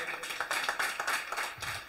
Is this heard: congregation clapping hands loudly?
yes